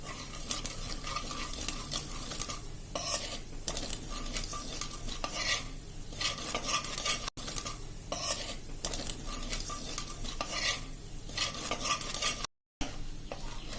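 Gram flour is stirred in a pan over a slow flame, with continuous rhythmic scraping and swishing of a spoon against the metal over a gentle sizzle, close and steady, with a brief dropout near the end.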